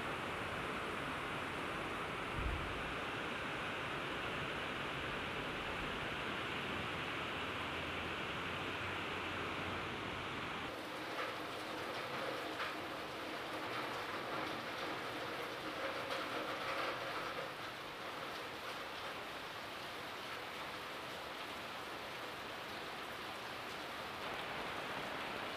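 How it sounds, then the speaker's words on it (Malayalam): Heavy rain pouring over flooded paddy fields in Kerala during the August monsoon, a dense, steady hiss that continues unbroken at close range for the whole stretch, with no voices heard. "ഇപ്പോൾ മഴ വീണ്ടും ശക്തി വെച്ച് തുടങ്ങിയിട്ട് നല്ല മഴയായി തുടങ്ങി."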